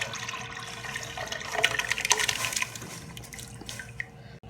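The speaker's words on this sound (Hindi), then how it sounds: "दूध जो है वो गर्म हो चुका है और अब हम इसमें जौ का दलिया डालेंगे।" Barley porridge thinned with water is poured into hot milk in a cooking pot, making a soft, continuous liquid splashing and trickling that swells in the middle and then tapers off, with a small clink near the end.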